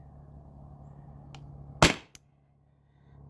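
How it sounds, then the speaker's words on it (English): A single sharp shot from a CO2 air pistol powered by an Umarex cartridge, close and loud, with a faint click just after it over a low steady hum. "I'll shoot 5 rounds and then give it like a 30-second break."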